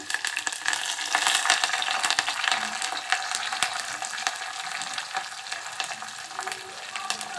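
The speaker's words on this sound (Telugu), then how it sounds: "ఇప్పుడు ఆనియన్స్ వేసేస్తున్నాను అలాగే ఒక నాలుగు వెల్లుల్లి పచ్చికరివేపాకు" Onions, garlic and curry leaves sizzle and fry in a pan for pepper rasam, a steady, fairly loud crackle with occasional stirring scrapes and no talk.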